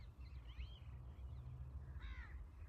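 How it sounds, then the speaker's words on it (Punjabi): Two faint caws from a crow, spaced apart, sounding distant against a low background rumble. "ਕਾਂ"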